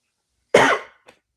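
A single sharp cough bursts out close up, followed by a faint short second catch of breath, against an otherwise silent background.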